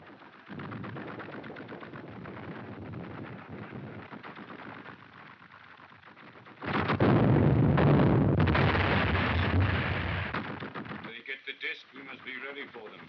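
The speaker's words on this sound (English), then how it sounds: "You mean that you're going to run through that shell fire?" Artillery shell fire in a 1933 film serial booms and crackles as a dense, noisy barrage, swelling louder midway and breaking into sharper bursts near the end, with old film-soundtrack hiss and talk mixed in.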